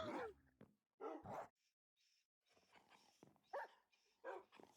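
Several dogs in the Minecraft video game bark and yip in short bursts, some loud and close, others fainter, with brief whimpers and pauses in between.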